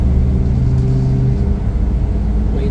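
A Transperth bus's deep, steady engine rumble drones throughout, loud and close, with a low hum holding under it.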